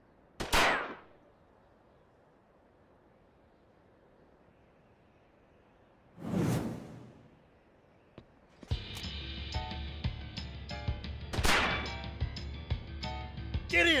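Gunshots in an animated battle scene, with several sharp isolated cracks spaced seconds apart, then a louder stretch of continuous rattling fire and clatter with another strong blast near the end.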